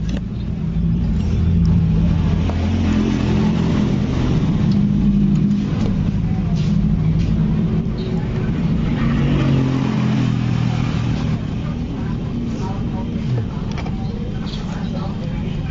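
A Yamaha Fino 125 scooter with a rough-running engine idles close by in a steady, loud drone with mild rises in revs, while people talk over it throughout.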